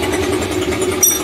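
A Pulsar 150 motorcycle engine idles with an uneven, ticking timing rattle running through its steady drone.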